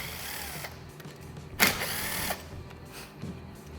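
A power tool loosens bolts on a VW starter motor (Valeo platform, 02M911021J). It comes as short, fairly quiet whirring bursts, the strongest lasting under a second, with a faint low hum between them.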